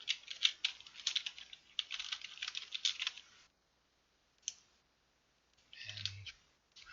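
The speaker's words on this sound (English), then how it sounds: "I'm just going to write some text in there just to have something to show." Rapid clicking of typing on a computer keyboard in a quiet room, a steady burst of keystrokes for about three seconds, a lone tap, then a short final flurry.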